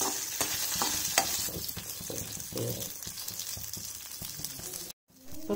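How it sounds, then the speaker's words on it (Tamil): Onion and chili frying with curry leaves in hot oil, a steady crackling sizzle with repeated stirring scrapes and clicks, then a brief dropout near the end. "இப்போ பாருங்க, இது மாதிரி வெங்காயம் மிளகாய் வந்து கொஞ்சம் செவக்கிற மாதிரி வணக்கணும்"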